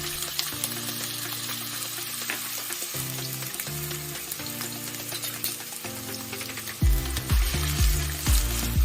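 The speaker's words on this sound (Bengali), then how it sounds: "ঘিটা গরম হলে এর মধ্যে পেঁয়াজগুলো দিয়ে ভেজে নিচ্ছি।" Onions fry in hot ghee with a continuous, close sizzle and crackle, while a low steady hum and occasional stirring scrapes sit underneath; no one speaks.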